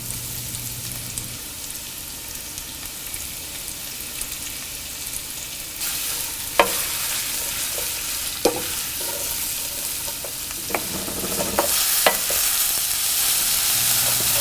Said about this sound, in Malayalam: ഇതിലോട്ട് എടുത്തു വച്ചിരിക്കുന്ന സവോള ആവശ്യത്തിന് ഉപ്പും ഇട്ട് നന്നായിട്ട് മിക്സ് ചെയ്യുക.